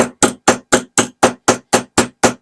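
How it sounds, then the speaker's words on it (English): A brass hammer strikes a Savage MSR10 rifle bolt ten times in a fast, even rhythm, each blow a sharp, loud metallic crack with a short decay, close and unaccompanied by speech. "Really hard on a brass hammer,"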